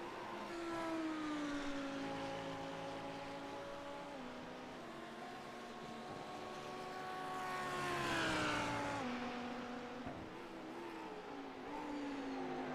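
Several 5.2 litre V10 race cars scream past on track during a 12-hour endurance race at Spa-Francorchamps, their harmonic engine notes rising and falling continuously, swelling loudest around the middle as cars pass close, then fading back to a steady distant wail.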